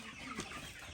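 Chickens cluck softly and continuously at close range while being fed in a Jamaican yard, a brief burst of low fowl calls with faint ambient noise.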